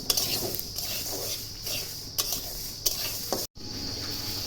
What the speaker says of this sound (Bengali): লঙ্কাগুলো বসায় একটু ভেজে নিচ্ছি